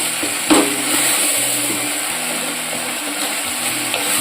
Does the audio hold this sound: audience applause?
no